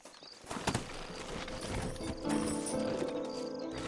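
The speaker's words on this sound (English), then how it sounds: "Horses are over here!" Horse hooves clip-clopping at a steady walking rhythm, fairly close, over a Red Dead Redemption game soundscape with light mechanical clatter.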